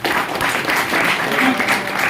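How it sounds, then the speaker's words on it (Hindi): An audience claps together at a sales meeting in Gurgaon, a brief, steady burst of applause that stays fairly loud, with some crowd voices mixed in. "एक बार जबरदस्त ताली अपने लिए दोस्तों।"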